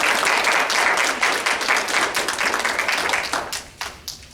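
A board of education meeting audience gives a round of applause for Joyce, a dense burst of clapping that holds steady for a few seconds, then thins out to scattered claps.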